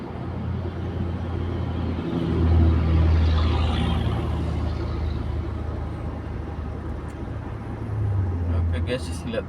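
Heavy trucks crawl along an Indonesian toll road, heard from inside an Innova Reborn diesel as a steady low engine and road rumble that swells briefly, with faint higher traffic noise throughout.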